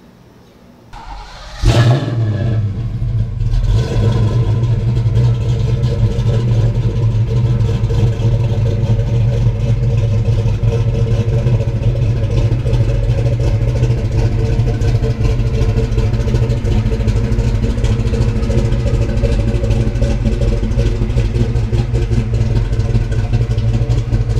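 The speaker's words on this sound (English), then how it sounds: "I think it's time for you guys to hear this car, and let's jump in it and go for a spin" A 1991 Ford Mustang engine fires up after a brief quiet start, then runs loud and close with a rough, steady rumble and slight revving throughout.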